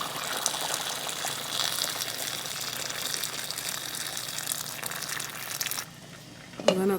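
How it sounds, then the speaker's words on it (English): Water gushes into a cooking pot of vegetables including cabbage and yuca, a steady splashing pour that lasts several seconds before stopping, followed by a brief clatter. "And then we're going to add water."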